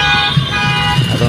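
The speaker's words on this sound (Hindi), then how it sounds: "पूरा ट्रैफिक पूरा जाम" Horns in a jammed Bhubaneswar street traffic jam, a loud sustained blaring tone with wavering pitch filling the whole short moment, close by over rumbling traffic.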